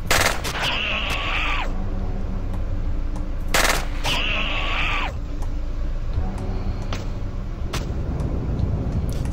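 Automatic gun in the video game Nuclear Outrun firing continuously, a loud, steady stream of rapid shots with two brief sharp whooshing accents, with no talking.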